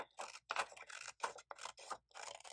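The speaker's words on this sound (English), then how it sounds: "We are cutting along the dotted lines." Scissors snip through paper along dotted lines, a series of close, raspy cuts in short bursts with brief gaps between strokes, no talking.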